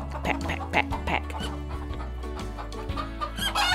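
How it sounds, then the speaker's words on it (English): A cartoon farm chicken on a children's learning programme clucks in a steady run of short calls, sitting over continuous background music. "And what noise is it making? Cluck, cluck, cluck, cluck, cluck, cluck, cluck. It's a chicken."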